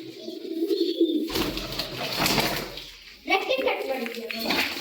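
Pigeons for sale at a bird seller's in Holenarsipura, Karnataka, cooing in low, throaty bursts close by, with someone talking over much of the stretch.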